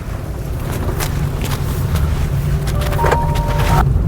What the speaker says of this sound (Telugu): మనం వెహికల్ డ్రైవ్ చేసినప్పుడు ఇంజన్ సౌండ్ అనేది వెహికల్లో ఎంతవరకు వస్తుందో చూడొచ్చు